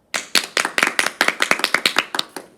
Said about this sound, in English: One last round of applause for Emma.